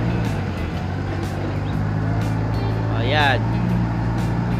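A forklift runs with a steady low engine drone throughout, close and continuous, while a person speaks briefly over it.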